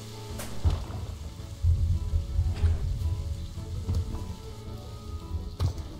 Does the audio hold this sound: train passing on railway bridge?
no